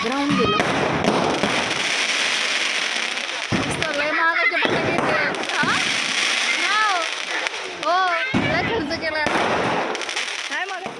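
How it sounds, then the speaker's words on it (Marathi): Diwali firecrackers crackle and pop in dense bursts, with short gaps between volleys, while voices, including a child's, are heard throughout. "तर इथे फटाके वगैरे आम्ही फोडले"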